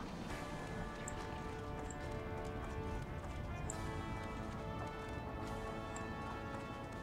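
A dwarf warrior's ram mount trots through the Wetlands in Warcraft, its hooves giving a steady, faint clip-clop rhythm over a soft, continuous ambient background.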